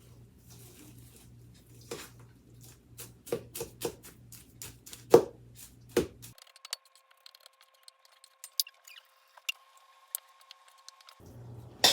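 Filling for Italian stuffed peppers is mixed by hand in a bowl after salt and pepper go in, giving a run of close, wet squishing and tapping thuds, then a quieter stretch with faint clicks.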